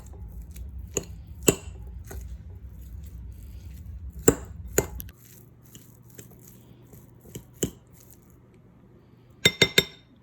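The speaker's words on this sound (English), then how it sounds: "we have here a block of feta, and all we do is crumble this with a fork" Fork crumbling a block of feta cheese in a bowl, heard as scattered sharp clinks and scrapes with a dull low hum early on, then sparse taps and a quick cluster of clinks at the end; no talking.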